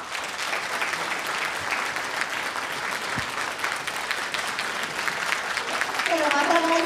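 Forum audience at a university medical forum in Akita applauding steadily as a guest leaves the stage, a dense, even wash of clapping throughout, with a faint voice near the end.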